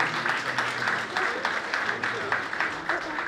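An audience claps at the CCM Côte d'Ivoire 2024 awards ceremony, giving a thick, continuous round of applause with faint voices mingled in the crowd noise.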